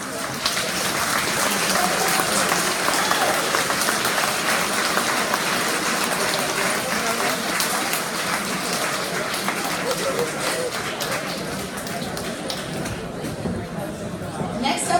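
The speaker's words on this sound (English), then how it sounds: "Let's give them one more round of applause." Sustained applause from a large audience at a school graduation awards ceremony honoring students, a dense, steady wash of many hands clapping that holds at full strength for the whole stretch.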